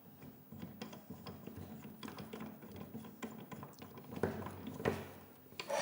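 A Kupo baby pin gobo head is tightened onto a camera rig, giving close, repeated ratcheting clicks and small metallic scrapes, with a louder pair of clacks near the end and no talking.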